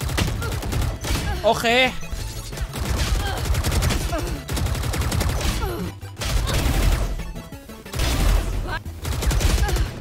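Sustained automatic spray fire in the Valorant shooter game comes in several long, rapid bursts separated by short pauses. The shots are loud and close, with a player's voice speaking briefly between them.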